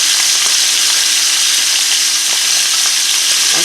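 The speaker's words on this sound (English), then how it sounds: "it's going to take about 3 to 4 minutes on each side to get that sear going on these" Beef short ribs searing in a hot pan give a loud, dense, continuous sizzle, close and steady throughout, with faint scattered ticks and no talking.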